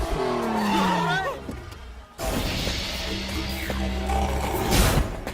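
A car drives in a movie scene, its engine rumbling with tire noise and a surge of motion after a brief pause, mixed under dialogue and music-like tones.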